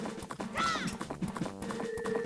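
Horse clip-clopping along and letting out a short whinny partway through at a ranch in the Majora's Mask video game, rhythmic hooves close and clear, with game music tones underneath.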